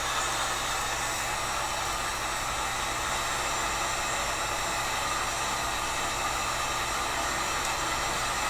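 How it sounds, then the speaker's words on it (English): A heat gun warming the center of a recurve bow handle blows a steady, loud, even rushing hiss of hot air, unbroken from start to finish with no talking. "Constantly moving the heat gun and constantly moving the bow itself"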